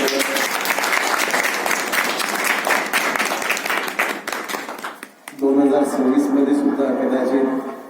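Audience at a felicitation ceremony where a certificate and flowers are presented, clapping loudly and steadily for about five seconds before it cuts to a speaking voice.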